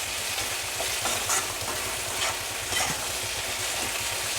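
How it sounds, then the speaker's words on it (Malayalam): Ivy gourd pieces stir-fried in a pan give a steady broadband sizzle, with soft scraping strokes of stirring every second or so, close and alone without any voices. "കുറച്ച് കുറച്ചായിട്ട് ഇട്ട് കൊടുക്കുക കേട്ടോ. ഇങ്ങനെ ഇട്ട് കൊടുത്ത് ഇളക്കിയെടുക്കാം."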